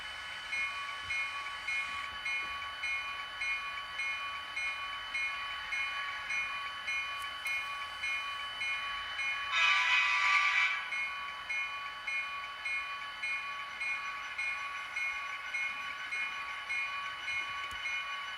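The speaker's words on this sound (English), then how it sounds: "a train is going to be coming down the track soon" A model train runs along a layout track, giving a steady, faint whirring hum with a thin tonal whine that swells briefly louder midway, then settles back, with no talking.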